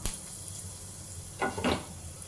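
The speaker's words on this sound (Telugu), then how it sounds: "ఇలా కొంచెం ఆయిల్ హీట్ అయిన తర్వాత కొంచెం జీలకర్ర, కొంచెం ఆవాలు వేసేసుకోవాలండి" Cumin and mustard seeds sizzle in heated oil for a bottle gourd omelette curry. A steady frying hiss runs throughout, with a couple of louder crackling bursts near the end.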